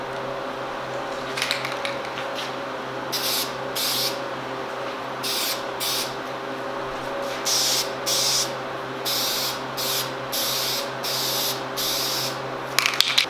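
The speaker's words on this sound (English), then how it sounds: "I'm gonna go ahead and get the first light coat of primer on there" A spray can applies a light primer coat to plastic Silverado tow mirror covers. The spray comes in a series of short hissing bursts with brief pauses between them, over a steady low hum.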